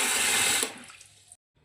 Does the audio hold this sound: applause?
no